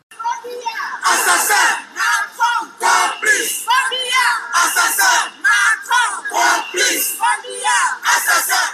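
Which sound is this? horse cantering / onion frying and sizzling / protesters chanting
protesters chanting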